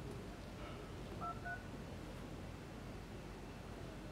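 Keypad tones from the phone dialer of an Android phone running a custom S7 ROM on Lollipop 5.1.1, two short beeps close together, faint under a steady hiss, with no voices.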